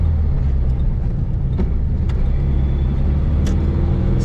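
Engine of a 1968 Volkswagen Beetle with a 4-speed manual, driving and accelerating: a steady, loud low rumble fills the whole stretch, with a few faint clicks on top and no talk.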